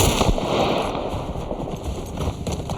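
Gunshots in a snowy setting in The Last of Us: rapid loud cracks and pops over a dense, noisy bed of game sound, with no talk.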